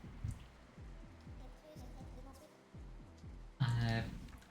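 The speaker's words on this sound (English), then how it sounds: "Oh, it's raining." Rain falls in the video game Atlyss as a steady faint patter of drops under soft game ambience, with a brief louder burst of sound near the end.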